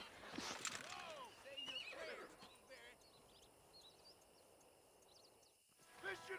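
Horses ridden by approaching riders in the video game Red Dead Redemption, with loud whinnies and neighing at the start, clip-clopping hooves, and a steady rumble of galloping underneath that fades out before a final burst.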